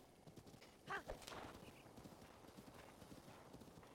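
Horse hooves in The Legend of Zelda: Breath of the Wild in Master Mode clop in a steady quiet rhythm, with a brief whinny-like burst early on.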